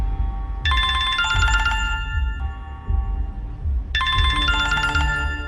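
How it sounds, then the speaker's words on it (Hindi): Phone ringing in the middle of the night around 2 a.m., two loud bursts of a bright, shimmering electronic ring tone over a low, pulsing rhythmic background, with a short gap between the rings. "अचानक उसके फोन की घंटी बजने लगी।"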